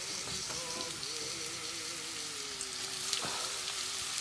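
Chopped onions sizzle steadily in hot olive oil in a pan, a dense, close hiss with occasional soft clicks of stirring, and no talk over it.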